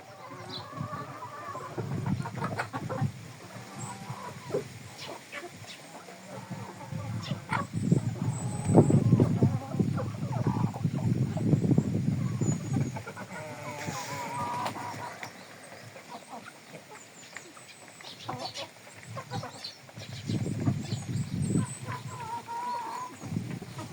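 Chickens cluck and peck nearby in an outdoor farmyard, soft scattered calls rising and falling over a steady low background hum.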